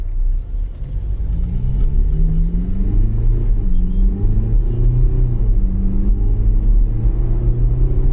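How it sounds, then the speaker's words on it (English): A 2021 MG Gloster SUV's engine rumbles and climbs in pitch through several rising sweeps as it launches in sport mode and accelerates hard, loud and close, with no talking. "We have kept it in sport mode and I'm just going to launch the car."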